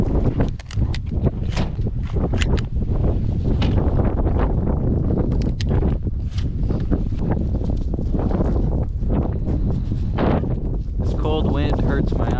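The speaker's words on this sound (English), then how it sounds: "wind hurts my eyes" Strong wind buffets the microphone outdoors on a pheasant hunting outing, a loud continuous roar with gusty swells throughout, and someone talks over it.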